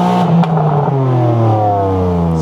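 A BMW M3 CS engine revs hard at close range, climbing and holding a loud, rasping, steadily rising pitch for a couple of seconds with no talking over it.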